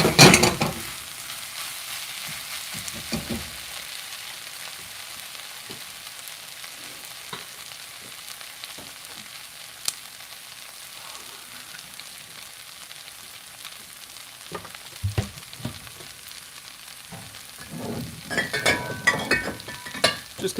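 Mushroom mapo tofu with shiitake and porcini sizzles steadily in a pan as liquid goes in, with a loud hiss at the start and stirring scrapes and clinks building toward the end.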